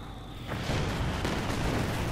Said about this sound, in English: Jackson fires back and attempts to somehow collapse the trench